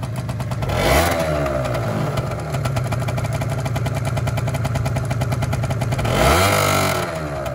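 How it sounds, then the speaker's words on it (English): Gilera DNA 2014 motorcycle engine running steadily with rough clattering idle, revved twice, near and loud with no talk. "and then that's how you start the bike. And then and if you twist this, and then smoke should come out the back."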